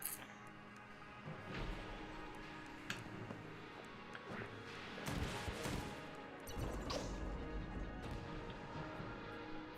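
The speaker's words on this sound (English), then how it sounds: "We basically have 2 Vulcan cannons." Twin Vulcan cannons fire in the video game Enter the Gungeon: rapid, faint bursts of gunfire with crashing impacts and scattered effects, at low level.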